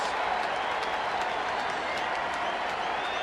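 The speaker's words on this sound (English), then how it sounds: "the crowd appreciating the effort by Jared" A baseball crowd at a Toronto at Anaheim game applauds pitcher Jared Weaver around his hundredth pitch, a steady, dense wash of distant clapping and stadium murmur that holds evenly throughout.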